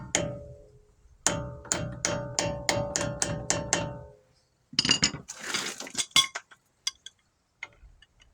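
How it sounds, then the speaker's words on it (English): Hammer tapping a part into place while chasing threads: a burst of eight or so sharp metallic ringing strikes in steady rhythm, close and loud, followed by scattered clinks and rattles of handling metal parts. "we're going to try to persuade this on here with a hammer again"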